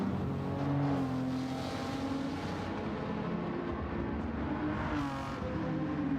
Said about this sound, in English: you can hear that it's got, you know, multi-cylinders, like 12 cylinders maybe